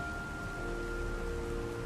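Steady rain falls across a great lake, a soft even hiss of drops on the water with a low, faint rumble of distant thunder beneath it, calm and unbroken throughout.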